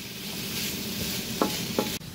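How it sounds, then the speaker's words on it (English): Chopped onions and bacon sizzle steadily in a hot pan for a keto breakfast casserole, with a continuous close frying hiss and a few brief scraping stirs of a utensil near the end. "Just want to stir and cook those until the bacon is fully cooked."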